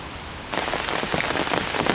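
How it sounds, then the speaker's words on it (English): Steady rain begins abruptly about halfway through, a dense hiss of drops on surfaces at an evening fishing spot, continuing loud and even to the end with no one speaking. "And as you can no doubt see and hear, it started to rain."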